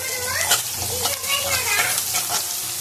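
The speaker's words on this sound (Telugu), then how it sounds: "లో ఫ్లేమ్లో పెట్టి ఒకసారి కలుపుకోవాలి" Carrot fry seasoned with turmeric is stirred in a pan over a low flame, giving a continuous close sizzle with a few scraping stirs.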